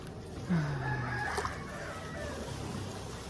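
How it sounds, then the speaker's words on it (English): A rooster crows once, fairly close, a drawn-out call rising then trailing off, over steady outdoor background noise. "That rooster be doing the most."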